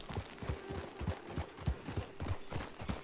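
Horse hooves clip-clopping at a steady riding pace in Red Dead Online, with a regular rhythm of close, fairly loud hoofbeats that continues throughout.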